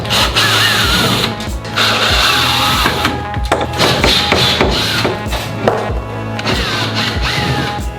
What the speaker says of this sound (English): we could just use the Ryobi drill